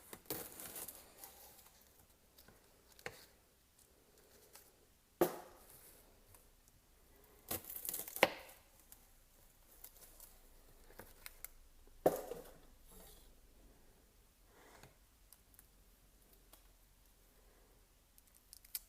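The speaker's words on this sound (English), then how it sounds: "So we'll do the same thing with this one, just cut the top and the bottom off." A knife slices the top and bottom off an onion on a board during French onion soup prep, giving a few sharp, close cuts and knocks spaced across otherwise quiet stretches with soft handling noises between.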